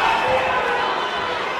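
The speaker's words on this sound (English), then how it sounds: "Crowd screaming for Winnard." Boxing crowd at a stadium fight night roaring for Harry Winnard, a dense, steady wall of cheering and shouting close around the ring that holds loud throughout with no break.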